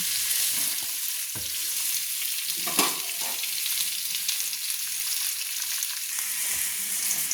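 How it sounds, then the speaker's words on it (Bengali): Potatoes frying in a pan until reddish for a hatchery chicken curry, a steady dense sizzle throughout with a couple of brief knocks from stirring. "হ্যাচারি মাংস করার জন্য আমি আলুটা একটু লাল লাল করে ভেজে নিচ্ছি।"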